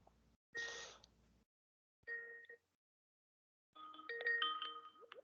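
A group call ringtone plays in three separate bursts of bright, chiming electronic tones with short silences between them, the last burst longer and busier, heard alone without talk.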